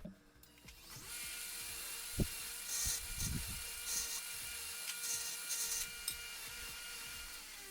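A power tool skims paint off a brake part from a first-generation Toyota Tundra during a brake job, whining thinly in a few short bursts with quiet pauses between them.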